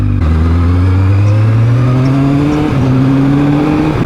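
Kawasaki Z1000 motorcycle on a test ride, its engine droning loud and close as it accelerates, pitch climbing steadily through the gear with no talking.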